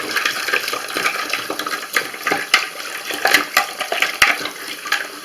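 Water runs as toilet parts are scraped and rinsed during a toilet leak repair, a loud close splashing stream broken by knocks and clicks of the parts.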